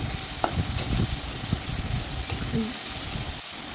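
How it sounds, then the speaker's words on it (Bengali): Ridge gourd stir-fried in a pan with salt and turmeric, a steady sizzle running throughout with scraping stirs and occasional clinks of the spatula, close and moderately loud. "এবার দিয়ে দেবো কেটে রাখা ঝিঙেগুলো ঝিঙে দিয়ে ওর উপর দিয়ে দিলাম স্বাদ অনুযায়ী নুন হলুদ দিয়ে আবার দু থেকে তিন মিনিট ভালো করে কষিয়ে নিতে হবে"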